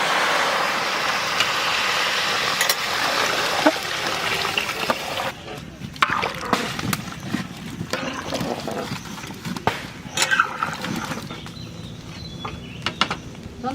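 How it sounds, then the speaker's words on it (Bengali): Water is poured into a pan of cooking curry to make the gravy, a steady rushing, sizzling pour for the first few seconds that then breaks into irregular splashes and clatter. "এবার আমরা জল দিয়ে ঝোল করে নেব।"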